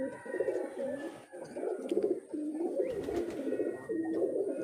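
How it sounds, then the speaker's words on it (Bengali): Pigeons roaming freely outdoors coo repeatedly, low throaty murmurs overlapping in a steady stream, close and clear with faint background chirps and no talking. "দেখেন কত সুন্দরভাবে কবুতরগুলো বাইরে ঘোরাঘুরি করতেছে"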